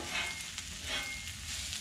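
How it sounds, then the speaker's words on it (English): Store-bought fajita vegetable mix sizzles on a hot griddle, a steady hissing fry with soft crackle, close and continuous at moderate volume, with no voices. "while we're sizzling right now"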